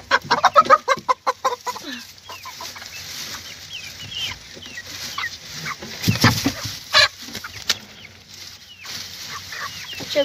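Hens clucking inside a chicken coop during cleaning, several close birds giving rapid bursts of clucks early on, then scattered calls and a louder squawk with rustling, no one speaking.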